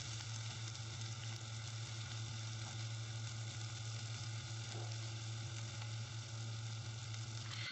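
Steady, dense sizzling of tilapia fish frying in hot oil, close by and continuous without a break.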